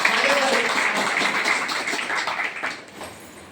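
Audience applause at a Marathi lecture hall event, a broad wash of clapping that starts strong and fades out after about three seconds, moderately loud and diffuse.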